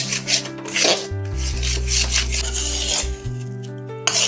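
Semolina roasting in ghee in a pan for rava ladoo is stirred repeatedly, giving close, rhythmic scraping and rubbing strokes over a low steady hum.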